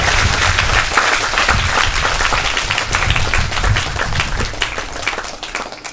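A church congregation claps in praise to God, a thick, continuous burst of many hands clapping together at close range, with little talk over it.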